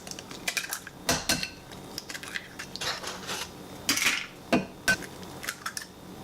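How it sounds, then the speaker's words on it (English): Eggs are cracked for a paleo dish with sharp, separate taps and clinks against a bowl edge, close and irregular, each followed by light shell crunching, with no talking. "And now let's start cracking our eggs."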